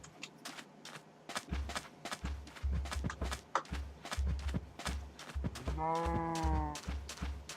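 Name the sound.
cattle being herded in a video game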